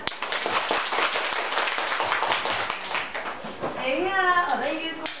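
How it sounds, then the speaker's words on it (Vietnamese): A youth group claps together in a brief burst of applause, a dense, close patter of many hands that fades as a voice begins speaking near the end. "Cho chú một tràng pháo tay."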